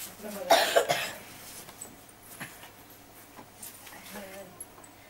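A burst of harsh coughing near the start, followed by quieter background sounds and faint movement.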